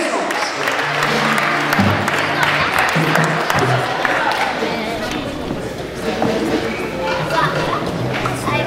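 A Haitian Baptist church congregation applauds its young ladies, a lively patter of many hands mixed with crowd chatter, a voice speaking and sustained musical tones underneath.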